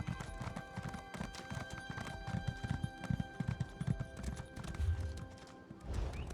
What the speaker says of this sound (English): Use the horse now, too.